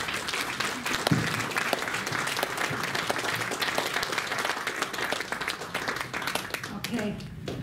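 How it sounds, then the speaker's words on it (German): An audience at a hypnosis and NLP congress gives a young woman a sustained round of applause, loud and dense clapping that fills several seconds before tapering off at the end. "Ein Applaus für die junge Dame."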